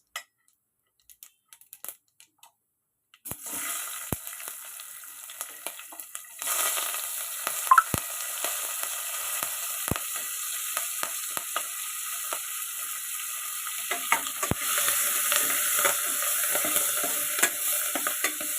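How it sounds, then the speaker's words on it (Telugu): Onions, green chillies and curry leaves sizzle in hot oil in a pan for a pumpkin curry, with a sudden steady frying hiss and occasional stirring clinks, close and continuous after a quiet start. "ఇప్పుడు దీంట్లో ఉల్లిపాయలు, పచ్చిమిరపకాయలు వేద్దామండి."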